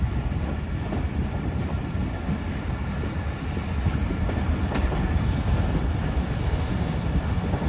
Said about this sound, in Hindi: सेवन शहर में हमारी ट्रेन एंटर हो चुकी है।